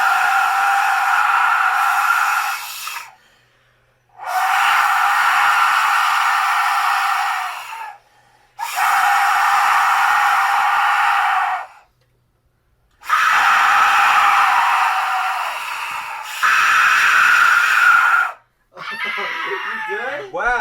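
Three 3D-printed Aztec death whistles blown together in four long, harsh, screaming blasts separated by short gaps, very loud and close, with a brief voice at the end.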